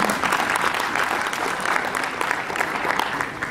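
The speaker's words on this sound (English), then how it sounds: "Can I have a round of applause for Jennifer?" An audience at a business panel discussion during an entrepreneurship conference in Kerala claps for a panelist, sustained even applause filling the room with no break.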